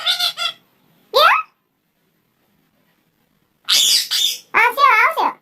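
A pet parrot screeches in short, harsh bursts, one near the start and a louder cluster of calls toward the end, separated by silence; at home with its owner nearby.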